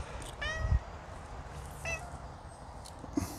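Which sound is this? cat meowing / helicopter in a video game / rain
cat meowing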